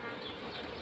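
A honeybee hive crowded with drones gives off a dense, continuous buzzing hum during an inspection, heard up close and filling the whole short moment.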